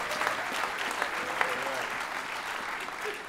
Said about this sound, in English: give the Girl Scouts another round of applause